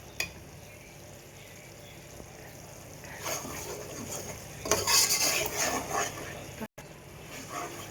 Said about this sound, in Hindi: अभी देखिएगा मैं सूजी को भून रही हूँ